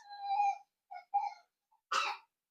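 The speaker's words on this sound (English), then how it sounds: "Can you not cough into the microphone, please?" Someone coughs close to the microphone, a few short hoarse bursts followed by one louder harsh cough, with silence between.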